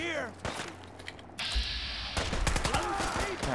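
Bursts of rapid gunfire in Fallout 4, sharp repeated shots mixed with game sounds and voices talking over the chaos.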